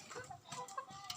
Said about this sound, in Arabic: وادي فراخ كمان اهي